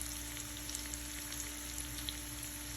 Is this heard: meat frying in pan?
yes